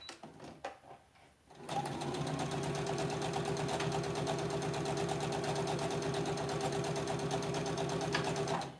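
A sewing machine stitching quilt pieces runs in a steady, close, even whir of rapid needle strokes for several seconds, after a few soft handling clicks at the start.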